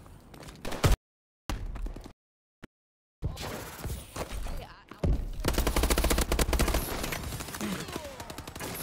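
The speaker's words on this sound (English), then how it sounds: "Oh, he had a shotgun." Video game shotgun blasts and bursts of gunfire crack loudly in uneven clusters, broken by short silent gaps and followed by dense, sustained shooting.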